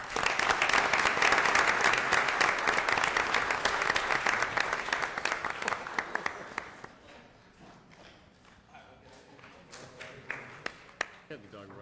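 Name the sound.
audience applause at council meeting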